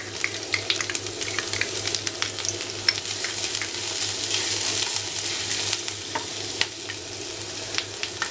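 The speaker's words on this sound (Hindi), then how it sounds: "वन टेबल स्पून बारीक चॉप लहसुन डालेंगे फ्लेम लो कर लेंगे" Finely chopped garlic and ginger sizzling in hot oil on low flame, a close, dense and steady crackle with sharp pops and occasional stirring scrapes running without a break.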